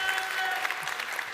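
A crowd at the AxieCon 2022 conference applauds a team on stage, a short, faint wash of clapping at some distance.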